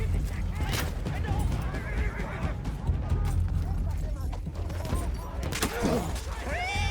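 A horse whinnies in the World War I shooter Battlefield 1, its rising cry standing out near the end over a dense bed of game noise, rumbling battle sounds and talk.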